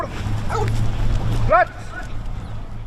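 A police sheriff's office K9 dog barks and yips in a few sharp bursts, loud and close, alongside someone shouting commands and steady background hum.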